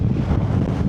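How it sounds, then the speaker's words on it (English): Strong gale-force wind buffets the microphone on the Isle of Skye coast in autumn, a loud continuous low roar with gusty rumble throughout and no voices. "It's absolutely blowing a gale"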